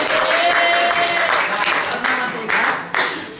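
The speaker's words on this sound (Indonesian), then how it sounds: "tepuk tangan untuk Alfie ya" Classroom applause for a student during a civics microteaching lesson, a dense burst of many hands clapping, steady for about three seconds and tapering at the end.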